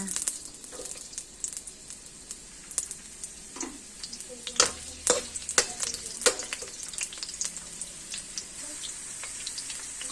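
Ginger sizzling in hot oil in a pan while cooking squid adobo, a steady bright hiss broken by sharp crackles and stirring clicks, with a voice talking quietly in the background.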